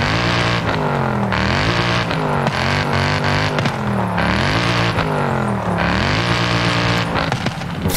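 A Volvo fitted with a 6.2 V8 revs loudly in Forza Horizon 5, the engine note rising and falling in repeated sweeps, close and continuous, with no voices.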